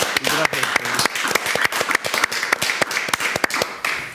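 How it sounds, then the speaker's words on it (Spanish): An audience welcomes a mathematics lecturer with applause: close, sharp individual claps in a quick uneven rhythm, loud and dense, with a few voices briefly over them at the start. "recibámoslo con un fuerte aplauso"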